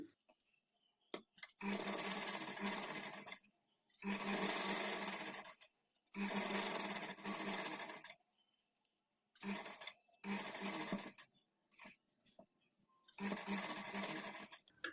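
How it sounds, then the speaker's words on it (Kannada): A sewing machine stitches a blouse sleeve seam in several separate bursts of steady, close whirring, with short quiet pauses between each run. "ಇಲ್ಲಿಂದ ಮತ್ತೆ ನಾವು ಅದ್ರ ಮೇಲೇ ಸ್ಟಿಚ್ ಮಾಡ್ಕೊಳ್ತಾ ಬರಬೇಕು"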